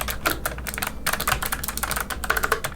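Typing on a Logitech MX Mechanical keyboard, a rapid, uneven stream of crisp clicking keystrokes, close and clear with no talking.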